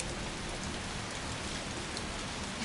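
Steady, dense rain in the Resident Evil 3 remake video game, a loud, even wash of drops pattering on surfaces without pause or voices.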